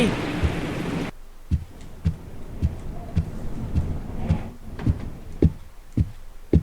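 A thunderclap from a lightning strike during a night-time horror game rolls loud and broad for about a second, then cuts off into a steady series of soft, rhythmic thumps.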